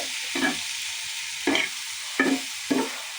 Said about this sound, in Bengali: এই যে ভাজিটা চলছে।